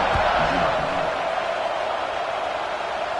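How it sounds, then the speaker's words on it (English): A college football stadium crowd roars before a kickoff after a touchdown, a loud steady wash of distant cheering and noise with a brief voice near the start. "They're set to kick it off, and this crowd now ready to get behind them."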